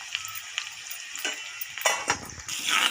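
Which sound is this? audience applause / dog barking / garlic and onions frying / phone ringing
garlic and onions frying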